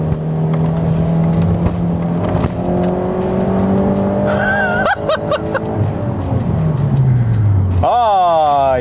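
A Mitsubishi Eclipse GS engine idles with a steady hum, then revs sharply in a few quick bursts and sweeps up loudly near the end, with someone talking over it.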